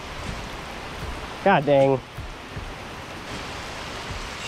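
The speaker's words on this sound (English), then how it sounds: "it's just like a torrential downpour now" Heavy torrential rain pouring down outdoors beside a bass-fishing spot, a steady dense hiss throughout, with a brief spoken exclamation partway through.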